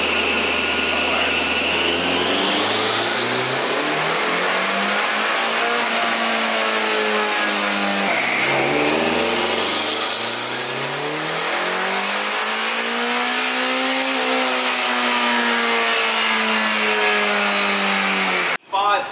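A car engine on a dyno revs up and down repeatedly in long sweeping pulls, loud and close, the pitch climbing and falling, then cutting off abruptly.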